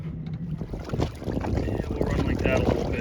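Boat motoring slowly along on open water, a low engine rumble and water wash mixed with wind buffeting the microphone, steady and close, with a voice briefly speaking over it.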